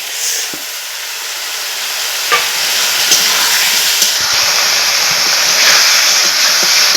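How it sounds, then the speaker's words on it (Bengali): Boiled potatoes are stirred into spice paste frying for an egg curry, a loud continuous sizzle and hiss with occasional scraping knocks of the spoon against the pan. "এখন আমি নাড়াচাড়া করে ভালো করে কষিয়ে নেব"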